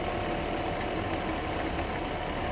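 Mercedes R129 engine idling with a misfire, a steady close rumble with faint irregular unevenness throughout.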